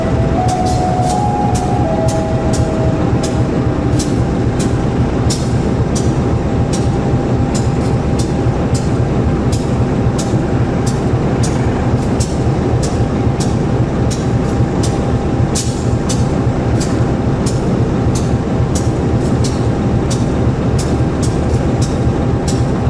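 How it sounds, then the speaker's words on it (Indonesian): The Garut Cibatuan local train from Purwakarta rolls past loudly and continuously in misty conditions near Haurpugur and Cicalengka, with steady rumbling and a rapid string of rhythmic wheel clacks over rail joints throughout, and no voices. "Kereta lokal Garut Cibatuan dari Purwakarta."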